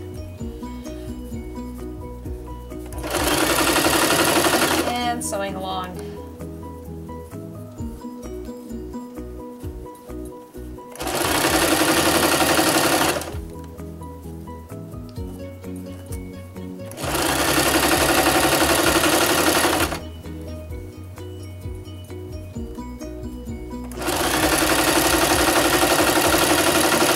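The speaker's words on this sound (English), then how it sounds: "Sewing along." Sewing machine stitching a rolled hem on couch cushion fabric made from Ikea swatches, running in loud, steady bursts of rapid mechanical chatter separated by quieter pauses, with a low hum underneath.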